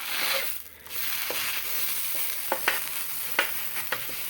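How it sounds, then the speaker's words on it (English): Steady broadband sizzling of wet food on a hot flat top griddle, with a few sharp scraping spatula clicks near the end; no voices. "this is fairly wet, and you can hear it sizzling"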